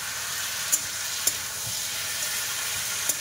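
Leafy greens stir-frying with fried prawns in a pan: a constant close sizzle broken by three sharp spatula clinks against the metal, no voices.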